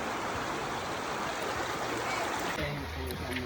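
River water flowing steadily in a rural farm stream where people bathe, a constant broad rushing wash heard up close throughout, with faint low murmurs that may be distant voices near the end.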